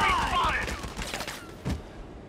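Rapid bursts of gunfire from the Valkyria Chronicles 4 tactical battle game crackle in quick succession, a dense volley with a sharper shot near the end, set against background game sound.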